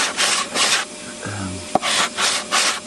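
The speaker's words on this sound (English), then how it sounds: "sanding the edges just so there's no sharp bits." Rough rasping strokes of hand sanding on the wooden edges of an abandoned boat under restoration, several bursts in a steady back-and-forth rhythm, close up, with a brief knock in the middle.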